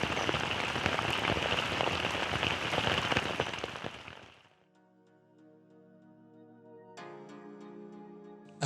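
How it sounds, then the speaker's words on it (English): Heavy rain pours steadily at night, a dense hiss and patter for about four seconds before cutting off into a quiet, tonal stretch with a later burst of sound. "we took shelter from the rain as it continued to rain"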